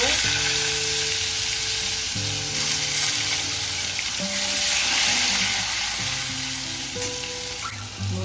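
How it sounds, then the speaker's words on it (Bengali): Long potato strips fry in hot oil with a constant, bright crackling sizzle heard up close. Light background music plays underneath and no one speaks. "এখন আলুটা ভেজে নেব"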